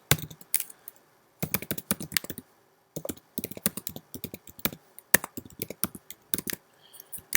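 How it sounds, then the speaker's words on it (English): Keys clatter on a computer keyboard in quick bursts of typing separated by short pauses, close and fairly quiet, while a web address is entered during SSL certificate setup on GoDaddy hosting. "you can type your website right here"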